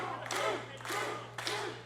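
Wrestling arena crowd roaring and cheering in three swelling waves, a broad wash of voices that rises, dips and surges again, loud and continuous with a steady low hum underneath.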